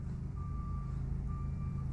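A salt truck backs up nearby, its reversing alarm giving two long beeps over a deep, loud engine rumble.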